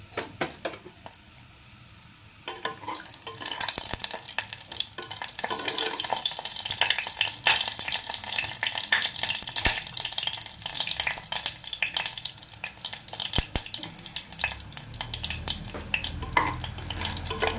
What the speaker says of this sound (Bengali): একটু নাড়াচাড়া করে নিয়েছি